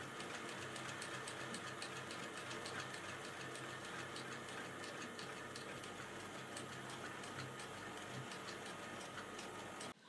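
Sewing machine stitching a top-grain leather sneaker seam about 2 mm from the edge, heard as a steady, continuous mechanical whir with a fine ticking rhythm that runs without a break and stops abruptly at the end.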